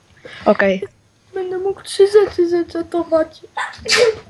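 A single sharp sneeze bursts out near the end, following a stretch of casual speech from a young man during a Minecraft play session.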